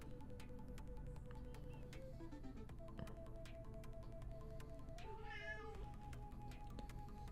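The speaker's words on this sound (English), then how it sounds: "my cat who just meowed while sleeping" One short, soft meow from a sleeping cat rises briefly over a constant low electrical hum in a quiet room.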